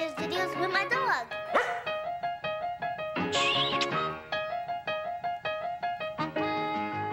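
A dog yips and barks repeatedly in a Peanuts VHS promo, the barks mixed in with speech and bright music, all close and fairly loud.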